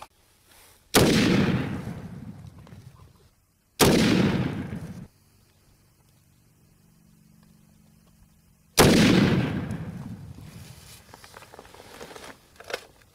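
A .50 calibre Bushmaster rifle fires armor-piercing rounds, producing heavy, booming shots with long decaying tails: one near the start, another about three seconds later, and a third after a quiet stretch, each loud and close.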